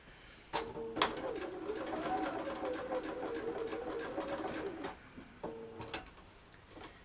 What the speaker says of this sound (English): I've got to be careful with Sarah's machine as well